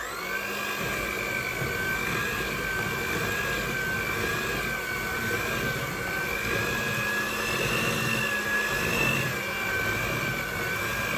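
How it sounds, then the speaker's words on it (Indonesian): An electric hand mixer runs on its lowest speed, blending the ingredients for German peanut cookie dough in a bowl. It gives a steady, close motor whine that holds evenly for the whole stretch, with no talking. "kita tinggal mixer biar tercampur semuanya"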